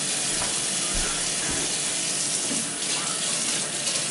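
Steady running water from a tap splashes continuously over raw chicken wings in a sink, close and fairly loud, with no talking.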